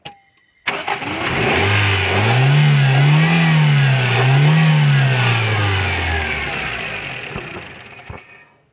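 A car engine cranks and catches, then revs up and down in a couple of loud, smooth swells before settling and fading, heard close with no talk.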